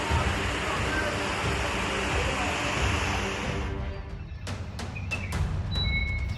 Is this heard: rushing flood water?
yes